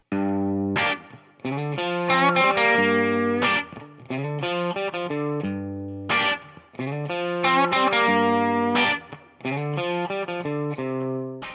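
A distorted electric guitar plays a short blues phrase of bent and repeated notes, looping a few times with brief pauses, loud and close with no talking.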